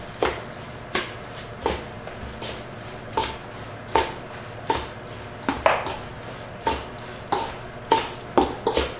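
Latke batter of grated potato, potato starch and a shake of garlic, gluten-free with no matzo meal, being mixed in a bowl: steady rhythmic knocks and scrapes roughly every half second, close and moderately loud, with no talking.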